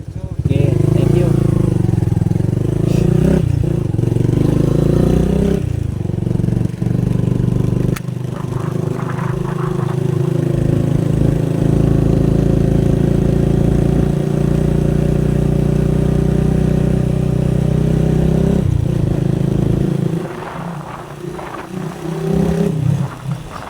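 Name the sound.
motorcycle engine while riding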